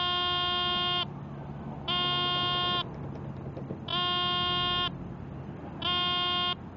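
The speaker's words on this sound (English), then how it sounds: "I'm getting a good positive beep here" A metal detector gives four steady, evenly spaced buzzing beeps, each about a second long, over faint outdoor background noise.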